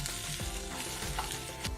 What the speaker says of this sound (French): on va essayer de retourner le colin, parce qu'il est un petit peu collé